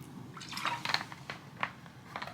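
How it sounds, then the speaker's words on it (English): Someone sipping and gulping water up close, a few wet slurps and soft swallowing sounds in an irregular rhythm, quiet and alone, no talking. "Let's get a drink some water."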